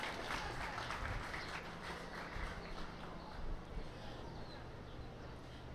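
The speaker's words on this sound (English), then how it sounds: "Please give your guys selves a round of applause." Applause from the audience at a 4-H pygmy goat show fills an indoor arena, a modest, fairly quiet clatter of clapping with faint background murmur and movement.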